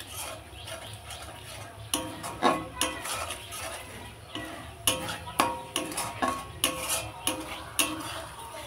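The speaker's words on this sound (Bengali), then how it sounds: "ভালো করে সব মশলাগুলো আমি কষিয়ে নেব।" Spices with Kashmiri chili powder stir-fried in a pan for fish-head murighanta, giving a faint sizzle under repeated scraping and clinking strokes of a spoon against the metal, steady and close.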